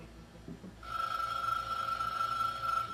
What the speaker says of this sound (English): in 5 seconds your phone is going to ring